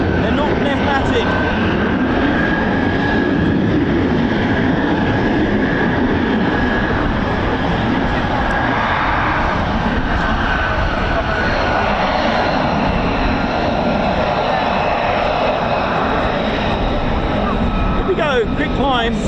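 An F-15 fighter jet's engines roar steadily through a quick climb at an air base, a loud continuous rumble that holds for the whole stretch without a break.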